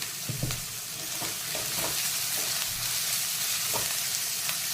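Onion and capsicum sauté with salt in a pan for a masala veg frankie, giving a steady, close sizzle with scattered crackles and soft stirring taps throughout.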